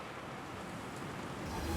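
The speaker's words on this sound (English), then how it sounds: "we'll see whether this wind that is blowing outside knocks me over" Wind gusts outdoors in the Star Citizen video game, a steady broadband rush that swells louder toward the end, alone without talk.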